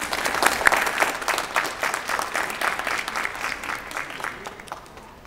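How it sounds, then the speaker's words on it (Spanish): Audience applause welcoming presenters at a book launch about Japanese laborers on the Hacienda San Nicolás: warm, full clapping from a roomful of people, steady at first and gradually thinning and fading toward the end. "por favor, un fuerte aplauso,"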